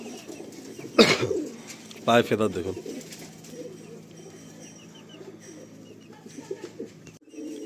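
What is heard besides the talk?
pigeons cooing, Madrasi fulsira pigeons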